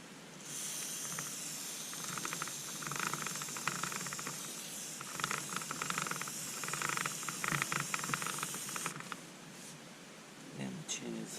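WD-40 aerosol sprayed onto an off-road bike chain gives a long, steady hiss of several seconds with faint mechanical ticking from the chain, then stops.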